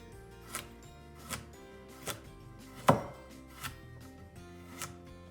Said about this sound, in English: we're gonna take our knife, we're gonna hold the carrots with the opposite hand that we have the knife, and we're gonna make little cuts